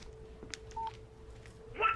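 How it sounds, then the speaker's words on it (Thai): A telephone in Alan Wake sounds two short, thin electronic beeps a second apart, faint over a low background hum. "โทรศัพท์มา"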